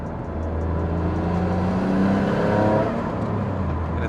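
A turbocharged Noble M400 sports car accelerates hard, its engine note rising steadily and loud from start to finish as it pulls through the revs, with no talk over it.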